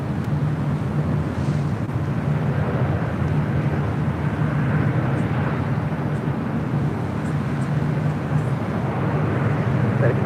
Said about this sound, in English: United Airlines Flight 802 coming in from Hong Kong